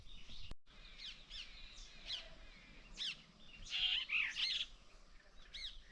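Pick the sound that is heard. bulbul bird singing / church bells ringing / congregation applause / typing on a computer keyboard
bulbul bird singing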